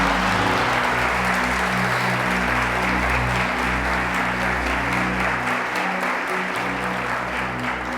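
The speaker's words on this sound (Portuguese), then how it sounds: "aplauda o seu nome" A church congregation applauds during a Portuguese-language sermon, steady dense clapping over a sustained low musical tone, continuous and loud throughout.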